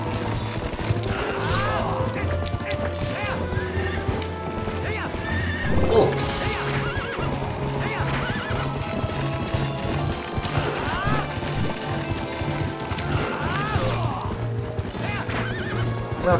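In Zelda: Twilight Princess HD, Epona gallops through a horseback fight, with continuous pounding hoofbeats, several loud neighs and whinnies, and occasional crashes and impacts under game music, while a player speaks now and then.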